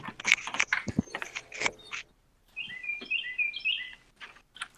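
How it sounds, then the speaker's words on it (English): Loud, busy bird chirps and tweets come in quick bursts, with a brief pause before a run of high, warbling calls resumes nearby. "Them birds are loud."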